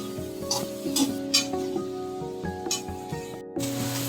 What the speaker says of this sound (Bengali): পেঁয়াজটাকে ভালো করে লাল লাল করে ভাজবো।